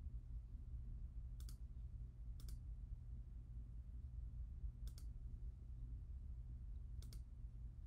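Four sharp, quiet mouse clicks spaced a couple of seconds apart over a low steady hum while navigating the Workspace ONE console.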